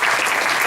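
A church congregation claps together in steady, dense applause, close and loud for under a second with no voices over it.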